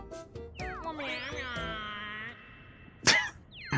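A man imitates a cat, giving a drawn-out, wavering meow-like cry with rising and falling pitch during a friendly online game night, followed by a short cough-like burst.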